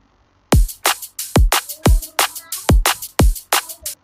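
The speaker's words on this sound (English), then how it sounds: "There's some kicks, some claps, some hi-hats, and all of that shenanigan for the D&B pattern" A drum and bass beat of punchy kicks, claps and hi-hats plays alone in a steady pattern for a breakdown of a track, each hit sharp with a short decaying low thump.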